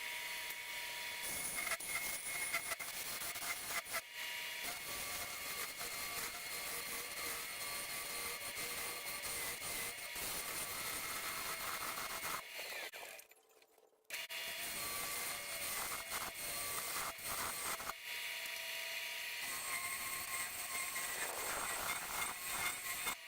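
A wood lathe turns a glued cherry and walnut vase. A dense, continuous whirring hiss with scraping texture sounds close and loud throughout, broken once by a short pause before it starts again.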